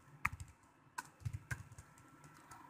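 Computer keyboard keys tapped while entering a table name for an SQLite database, a sparse run of light clicks spaced irregularly, close and quiet, with no voice.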